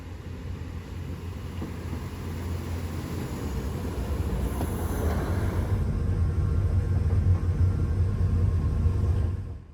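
A narrow-gauge diesel train pulls up to a platform in northern Spain, its low engine rumble and rolling noise swelling gradually from a distance to a loud, close drone before cutting off.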